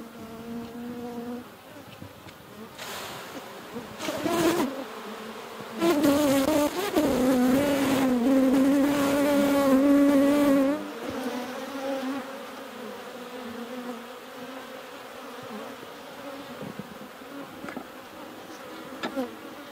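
Honey bees buzz close by at an opened horizontal hive split, a dense droning hum with individual bees passing near and loud bursts of buzzing in the middle, alone without talk.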